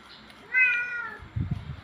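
A cat meows once, a clear harmonic call up close, followed by some soft low bumps and handling noise.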